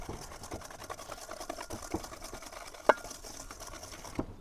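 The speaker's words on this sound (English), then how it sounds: "I've been whisking longer than you have." Cake batter being whisked by hand in a bowl for a rhubarb upside-down cake, a steady run of fast, light scraping strokes with one sharper clink near the end, heard close up with no talking.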